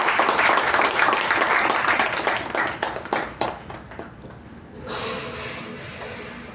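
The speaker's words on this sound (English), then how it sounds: "we need to give them a big round of applause" A room of people at a club meeting's installation ceremony claps. The applause starts full, thins into scattered individual claps and dies away. Some faint room noise follows.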